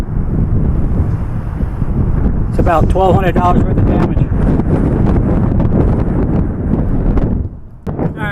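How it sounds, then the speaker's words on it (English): Heavy wind buffets an outdoor microphone continuously, a loud low rumble under a man's speech, easing briefly near the end. "I hope you can hear me with all the wind."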